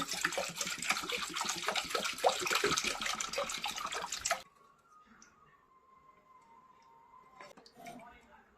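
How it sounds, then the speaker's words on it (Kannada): Water splashes and pours into a vessel over churned homemade butter for several seconds, then stops, leaving quiet room sounds and faint clinks. "ಪಾತ್ರೆಯಲ್ಲಿ ನೀರು ಹಾಕ್ಕೊಂಡು"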